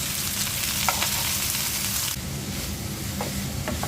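Hilsa fish roe sizzles steadily in a frying pan, a close, continuous crackling hiss that briefly shifts in tone partway through, with no voices.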